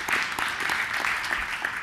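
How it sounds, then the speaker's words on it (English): Audience applause following a presentation, steady sustained clapping from a moderate crowd with faint voices underneath. "one more round of applause for Steve, guys."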